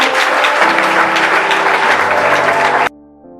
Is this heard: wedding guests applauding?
yes